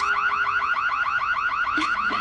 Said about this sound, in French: Il vous suffit d'appuyer sur le signal d'alarme.